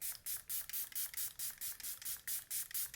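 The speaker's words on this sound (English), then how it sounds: "let's seal it in with some Make It Last Milani setting spray" Milani Make It Last setting spray is pumped in a rapid series of about a dozen short, bright hissing bursts, evenly spaced and close to the listener, with no talking.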